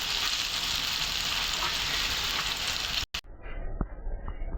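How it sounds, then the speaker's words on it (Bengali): Boiled taro leaves fry with tomato, ginger and garlic in a pan, giving a loud, steady sizzle that cuts off abruptly and is followed by quieter frying with occasional clicks of stirring. "আমার কচু শাক টমেটো দিয়ে ভাজা ভাজা করছি।"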